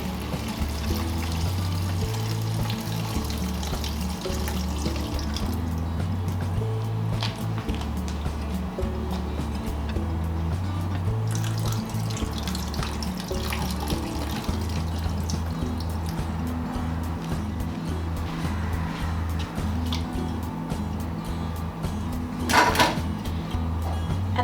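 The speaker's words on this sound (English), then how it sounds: "slowly pour your stock into the colander." Chicken stock pours steadily into a colander for a long stretch with soft dripping and trickling, a continuous close splashing flow with a brief louder splash near the end.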